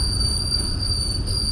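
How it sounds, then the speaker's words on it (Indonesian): Ranggajati passenger train from Cirebon to Jember standing at track 4 of a station platform, giving a steady, continuous rumble and hum with a high tonal whine throughout. "di sebelah sana di jalur 4 itu ada rangkaian kereta api Ranggajati teman-teman, dari Cirebon tujuan akhir Jember."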